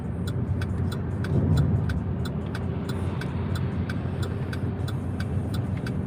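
Car driving on Shawnee Mission Parkway, an American road: a steady, loud interior road roar with a faint regular ticking over it, and no talk.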